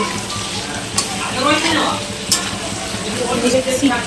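Chicken pakoras fry in hot oil with a loud, dense sizzle and a few scrapes and clinks of a utensil in the pan, while a voice murmurs faintly in the background.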